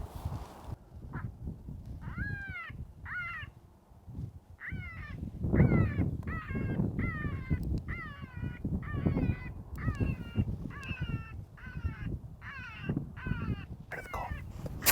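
An electronic predator call plays coyote pup distress sounds at full volume outdoors in Nevada, a repeated series of high, yelping whines and cries in rhythmic bursts over a windy, noisy background.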